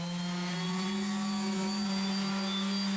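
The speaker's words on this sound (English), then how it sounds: "I'm going to start sanding." Power sander working over cured resin, a steady loud motor whine with a strong low hum, running continuously throughout alongside vacuum extraction noise.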